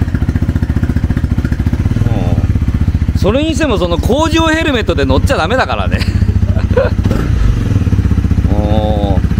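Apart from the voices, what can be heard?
Honda CB250F motorcycle engine running after start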